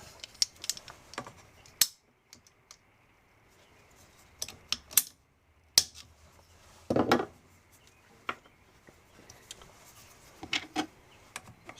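A pipe for a camper spray port being cut on its mark with a hand cutter, heard as sparse sharp clicks and snaps with a short crunching cut in the middle, close and quiet between sounds.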